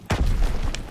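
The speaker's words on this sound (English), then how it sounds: "Not sure where that nade went though. Nade went there." A grenade explodes in Call of Duty WW2, a single close, heavy boom with a low thud that rumbles briefly, with a faint sharp crack near the end.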